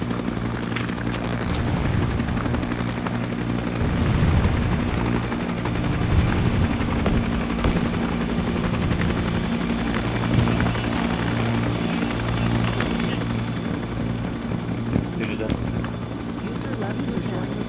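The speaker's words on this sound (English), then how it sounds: "We're getting that chopper." A helicopter in a military video game throbs loudly and continuously with steady rotor chop, and faint gunfire comes through in places while voices talk over it.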